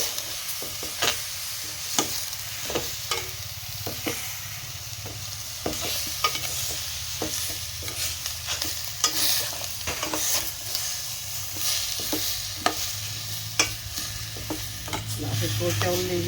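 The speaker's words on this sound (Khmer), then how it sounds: "ដាក់សាច់គោចូលលីងឲ្យសព្វ" Beef pieces fry for a beef stew, a continuous close sizzle broken by regular sharp scrapes and taps of a utensil stirring the meat around the pan.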